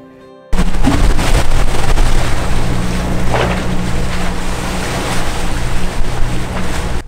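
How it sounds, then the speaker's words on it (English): A sailboat under way on the open Caribbean Sea between Grenada and Curacao, with steady loud wind roar and rushing waves against the hull that fill the whole clip after a quiet start. "we would be sailing for 5 hours to the island of Curacao"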